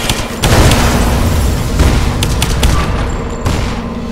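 Gunfire in the video game Lara Croft and the Temple of Osiris, loud booming shots and bursts repeating irregularly over a dense, continuous roar of game noise.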